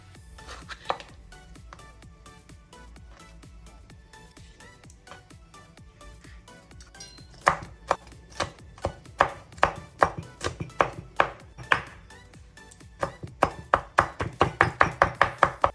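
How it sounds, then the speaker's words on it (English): A knife chops scotch bonnet peppers on a board, at first a few sparse cuts, then a long run of sharp, rapid close strikes that grow steady and quicker toward the end, with no talking. "I'm now going to cut up some scotch bonnet."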